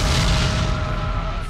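Cartoon explosion effect from a Powerpuff Girls episode: a loud, sustained booming rumble filling the whole stretch, with no speech over it.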